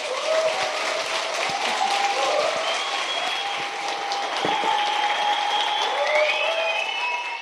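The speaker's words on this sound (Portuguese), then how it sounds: "Vamos aplaudir, Senhor." A church congregation applauds at a pastoral ordination service, with dense, steady clapping filling the room throughout and some faint tonal sounds underneath.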